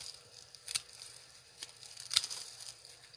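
A garden plant is cut apart at the root: two sharp, crisp snips or tears stand out against quiet rustling and faint fiber crackle, close to the microphone.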